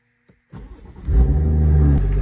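A BMW 140i engine cranks briefly, then catches and settles into a loud, steady idle close by.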